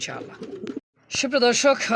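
A male pigeon coos in short, low, throaty bursts close by, with a brief pause before a louder rolling coo resumes.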